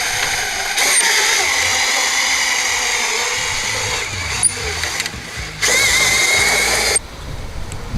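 A John Deere F128B ride-on mower's drive turning by hand with the clutch engaged, giving a steady mechanical whir and hum with brief shifts in level and a few light clicks, no talking.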